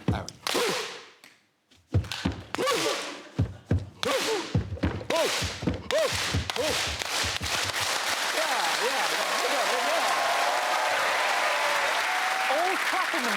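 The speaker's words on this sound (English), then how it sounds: "All clapping themselves like you got that right the first time." Studio audience at a British comedy panel show bursting into applause, starting with a few scattered claps and quickly swelling into sustained, loud clapping that fills the room.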